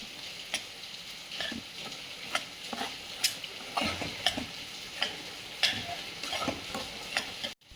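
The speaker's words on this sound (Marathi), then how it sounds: "त्याच्यामध्ये मम्मी आता पीठ टाकते आणि आता मिक्स करायचं मी" Flour is stirred into melted ghee in a pan, a soft, close scraping and sizzling with regular spoon strokes and light clicks at a fairly low level, without speech.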